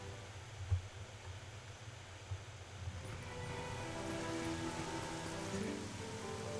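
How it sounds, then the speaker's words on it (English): Rain in The Legend of Zelda: Twilight Princess, a faint steady hiss of falling rain with a soft low hum and a couple of small thuds, the downpour swelling slightly denser in the second half. "I just hate the rain."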